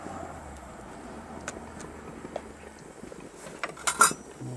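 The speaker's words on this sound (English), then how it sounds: "now we're going to add the peppers to the tomatoes" Peppers go into a pot of cooked tomatoes for Bulgarian lutenitza: a quiet stretch, then a few sharp clinks and knocks of a utensil against the pot near the end.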